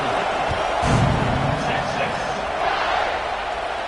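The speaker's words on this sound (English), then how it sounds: "this crowd is buzzing after that last score" Stadium crowd noise in the NCAA 26 college football video game during a kickoff late in the fourth quarter: a dense, steady roar that holds at the same level throughout, with a slight swell near the start.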